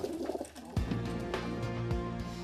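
Homing pigeons cooing at their loft, a few soft repeated coos close by, with some rustling before them.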